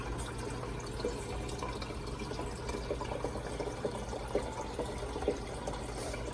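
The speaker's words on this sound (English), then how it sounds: "And you see the water rushing in?" Water rushes steadily through a valve system, making a continuous low, turbulent wash with faint gurgles and drips, with no talk over it.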